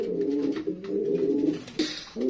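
A pair of Blacking pigeons coo softly and repeatedly nearby, in a steady run of low, throaty calls with no other sound.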